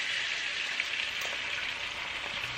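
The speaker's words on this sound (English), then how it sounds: "I have whisked one egg. And I'm going to go ahead and just toss that in here." A whisked egg sizzles in a hot pan, a steady, dense crackling hiss with no pauses, close and moderately loud, with faint clinks underneath.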